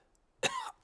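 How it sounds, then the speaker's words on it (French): An animated cartoon doctor gives a single short, rasping cough, close and clear, against near silence. "Voilà que le docteur a attrapé la toux de Pedro maintenant."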